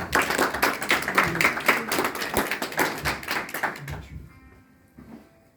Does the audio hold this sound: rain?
no